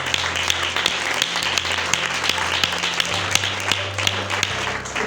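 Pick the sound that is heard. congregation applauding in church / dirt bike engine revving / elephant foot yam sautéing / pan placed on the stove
congregation applauding in church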